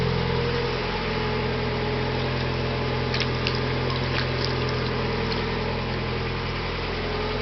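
Water sprays onto a car windshield while the engine idles steadily, a brief burst of hissing splashes rising over the constant low engine hum; no one speaks.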